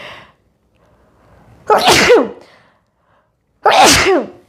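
Two loud, close human sneezes, each a sharp burst with a breathy trailing tail, separated by a couple of seconds of near silence.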